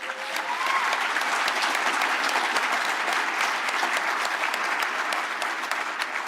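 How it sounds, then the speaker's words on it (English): A large audience at the Urban 20 Sherpa Meeting and African Mayors Assembly gives the keynote speaker, Dr. Dlamini-Zuma, another round of applause: sustained, even clapping from many hands that stays strong and steady throughout. "I demand another round of applause."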